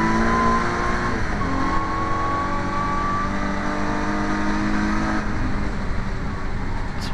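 Classic Thunder race cars lapping the Thruxton circuit, loud engine drone holding steady pitch as cars pass close by, with a shift in tone around the five-second mark and no voices.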